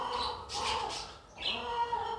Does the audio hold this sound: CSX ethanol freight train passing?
no